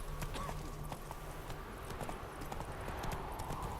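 Roach, the horse in The Witcher 3, gallops with quick rhythmic clip-clopping hooves that stay close and steady, with a faint voice briefly underneath.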